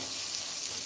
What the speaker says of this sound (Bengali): এবার তো এখানে পেঁয়াজের ফ্রাইতে নুনটা দিই